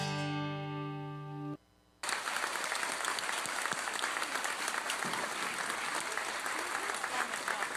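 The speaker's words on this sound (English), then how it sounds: "Was that canned applause?" Canned applause played on a radio broadcast, a dense, loud wash of crowd clapping that bursts in after a held musical chord and brief silence, then continues steadily.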